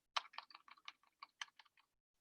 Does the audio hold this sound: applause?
no